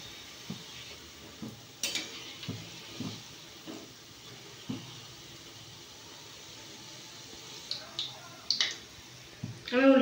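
Gulab jamun fry in a pan while a utensil stirs them from the bottom, producing scattered, fairly close clinks and scrapes against the pan over a faint, low hiss.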